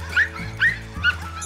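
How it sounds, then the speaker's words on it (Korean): Small dogs at a dog training school give short yips and whimpering barks in quick repeated bursts, close and fairly loud, with no talking over them. "이렇게 천사 같은 강아지들이 베리를 마음껏 반겨주니까"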